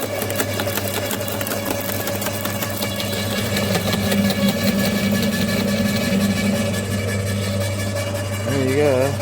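An Ozito garden shredder from Bunnings runs continuously with a steady mechanical drone and rattling whine, loud and close throughout.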